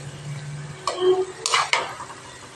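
A spoon knocks and scrapes against a pan while shakarpara fry over low heat: a few sharp metallic taps and a short scrape, close by, over a faint background of frying.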